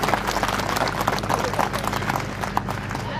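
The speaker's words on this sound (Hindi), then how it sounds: "एक बार जोर से नौतन जी को विजय कुमार जी को ताली बजा के स्वागत करो।" A crowd at a Maha Shivratri religious gathering claps in welcome. Brisk, continuous hand-clapping from many people stays up close while a voice talks over it.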